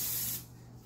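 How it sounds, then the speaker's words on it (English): Cooking oil spray hisses onto chicken breast for about a third of a second, a close, loud burst that cuts off into quiet room tone. "Yes, spray."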